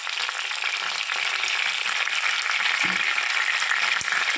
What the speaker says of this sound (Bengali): এই যে দারচিনি দিয়ে দিচ্ছি